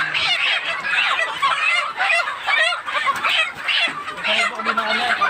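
Chickens clucking and chattering in a cluster nearby, busy overlapping calls with a brief low voice underneath.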